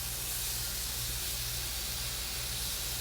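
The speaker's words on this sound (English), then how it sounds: "I'm just going to let those sear up" Hamburger steaks searing in a hot skillet with very little fat: a steady, loud, close sizzle that holds without a break and has no voices over it.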